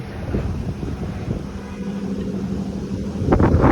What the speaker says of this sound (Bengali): একটি বিমান যাচ্ছে, না জানি কত বাতাসের মধ্যে দিয়ে তাকে যেতে হচ্ছে।